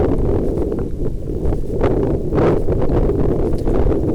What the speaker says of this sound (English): The wind was buffeting me about quite a bit